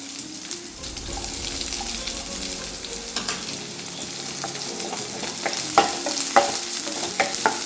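Steady frying and sizzling of sliced onions in a pan with occasional stirring clinks and scrapes, continuous and close, no voices.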